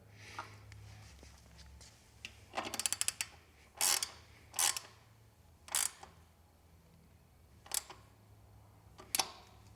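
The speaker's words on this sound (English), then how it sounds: "I'm just gonna use the 15mm wrench for now." A 15mm wrench tightens the front wheel on a cargo electric bike, making a few quiet ratcheting clicks and short metallic bursts spaced irregularly over a low background hum.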